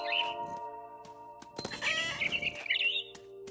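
Game audio of a mama bird in What Remains of Edith Finch: chirpy, warbling bird calls over a sustained tonal music bed, with a busier, louder flurry of calls in the middle, fairly close.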